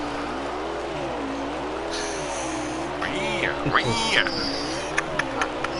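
A race car engine runs rough and sputtering, its revs wavering and surging unevenly, with a person talking over it.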